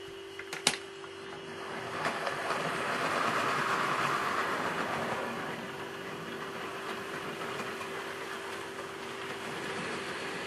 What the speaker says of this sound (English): As they arrived, a train came in from the branch line.